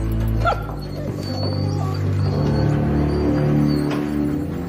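A stolen, drugged dog whimpers and gives soft yips over a loud, steady low hum, the dog's cries faint and intermittent within the noisy background.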